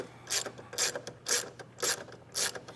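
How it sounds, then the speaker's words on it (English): Ratchet wrench clicking as it loosens a nut on a battery post, five evenly spaced bursts of rapid pawl clicks, close and fairly quiet with no talking. "we're going to start by removing this nut that connects to this plate."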